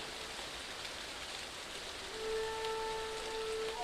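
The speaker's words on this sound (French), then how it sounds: "la pluie commençait à s'éloigner" Quiet, steady rain hisses throughout, and a soft sustained musical tone comes in partway through.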